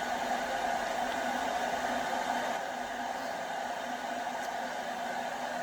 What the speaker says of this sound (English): put the hairdryer on it just to blow the rest of the moisture out